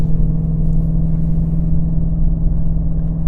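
A 2020 Ford Mustang GT500 engine drones low and steady while driving, heard from inside the car as a constant loud rumble with no talk.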